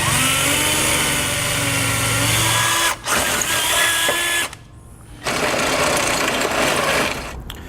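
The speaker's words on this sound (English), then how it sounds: "I'm going to start out with a rather small drill bit to start with and just make a pilot hole" A loud, continuous power drill whine drilling a small pilot hole in the metal frame of a 2018 Ford Focus, stopping briefly twice, dipping, then resuming with a steady high mechanical buzz, close up.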